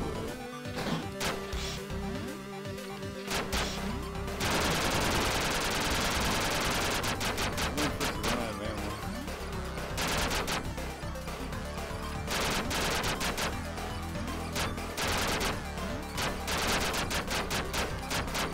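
Rapid bursts of cartoonish gunfire fill a chaotic multiplayer round of the video game Duck Game, with crashes and smashes mixed in; the shooting is loud and almost continuous, with dense volleys stacking on each other, and no talking over it.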